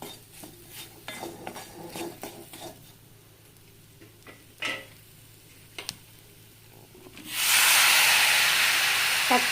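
Close clinks and scrapes of a spoon in a pan for kadai paneer, then a loud, sustained sizzle and hiss as tomatoes hit the hot oil and begin cooking.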